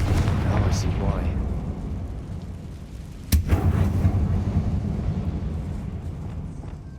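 A Confringo spell in Hogwarts Legacy, played on Xbox Series X inside a closed mine resembling a tomb, goes off as a single sharp crack that fades into a rumble over steady low game ambience.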